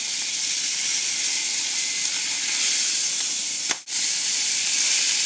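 Filet mignon steak sizzling in a hot pan just after being turned, a steady bright hiss with a brief sharp flare near the end, no voices.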